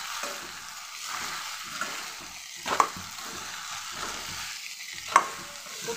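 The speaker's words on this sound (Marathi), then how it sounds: "छान मिक्स करून घेते मी." Spoon stirring and mixing a vegetable bhaji in a pan after ground niger seed powder is added, with soft scraping and a gentle sizzle, plus two sharper clinks of the utensil against the pan; no voices.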